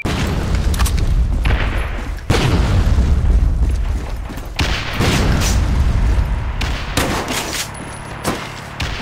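Grenade explosions mixed with rapid gunfire in the Metro Conflict video game, as several heavy booms and sharp bursts of shots come in quick succession, loud and close, with no talk.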